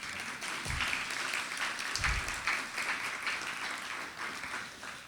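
Audience at an annual live poetry event applauds in a steady, moderately distant wash of clapping that holds for several seconds, with a couple of low thumps.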